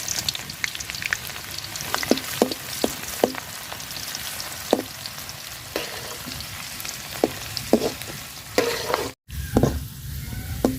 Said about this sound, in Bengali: তো পেঁয়াজ দিয়ে দিলাম, অল্প একটু বেরেস্তার দরকার আমার। তো আগে বেরেস্তাটা করে নিব আমি।